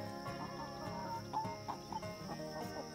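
Chickens in a winter chicken coop at the forest's edge cluck softly and repeatedly, with scattered overlapping calls and a few sharper notes over a low background hum; no one speaks.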